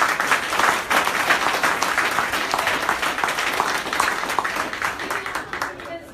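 Sustained applause from a crowd, dense steady clapping at full volume for about six seconds, tapering slightly at the end.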